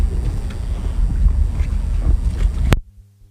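A 2020 Supreme ZS232 wake boat runs on open water with a loud, steady engine rumble, rushing water and wind buffeting the microphone, ending abruptly.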